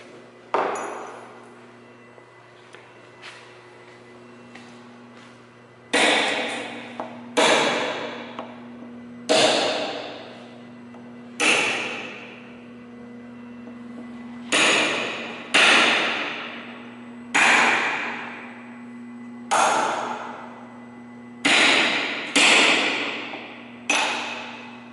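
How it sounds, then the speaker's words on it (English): A hammer strikes a sharp chisel cutting into a big PVC pipe, giving a dozen loud ringing blows close by with a metallic ping and a fading tail after each, some blows coming in quick pairs, against a low steady hum. "Ooh, I brought me a sharper chisel."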